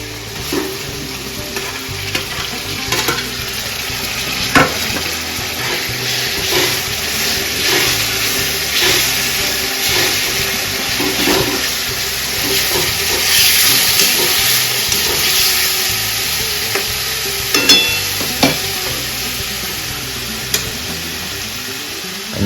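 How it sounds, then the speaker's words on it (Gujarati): Shredded cabbage sautéing in a pan for pav bhaji with chutney tadka, a steady sizzle and hiss running throughout with occasional stirring scrapes and clinks, close and fairly loud, with no talk. "કોબીને ચડવા દેવાની મમ્મી સારી રીતના હા કોબીને સાતળવા દેવાની"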